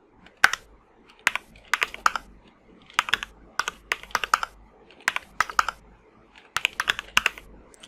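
Fingers tap a computer keyboard in quick bursts of clicking keystrokes separated by short pauses, close and crisp in an otherwise quiet room.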